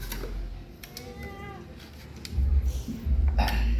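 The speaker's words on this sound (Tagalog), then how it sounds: "Ganyan ang mga pusa eh." A male Persian cat meows outdoors: a couple of drawn-out meows, moderately close, with a few short clicks and thumps before heavier low rumbling noise takes over.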